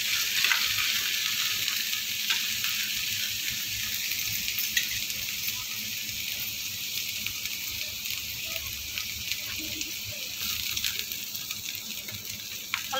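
Crushed garlic, onion and chili sizzle and fry in a pan for masala bhindi, a steady, dense crackling hiss that goes on without a break. No one speaks.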